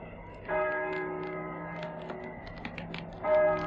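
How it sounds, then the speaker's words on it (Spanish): Church bells of San Juan del Duero tolling at night, a resonant ringing strike with a long sustained hum that fades, then a second strike follows a few seconds later. "Las campanas doblan."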